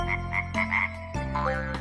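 Frog croaking in a calm outdoor setting: a series of repeated, fairly close croaks in a steady rhythm, with no voices.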